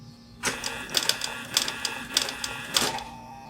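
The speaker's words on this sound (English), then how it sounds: "I'll sew a little bit." Pfaff 335 H3 industrial sewing machine stitching binding through a vibrating binder attachment, with short clattering bursts of needle and feed mechanism starting and stopping at close range.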